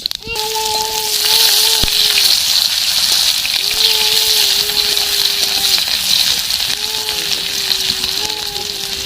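Panch phoron seeds with a dried red chilli and a bay leaf, then chopped onion, frying in oil, giving a steady broadband sizzle throughout while a voice speaks intermittently over it.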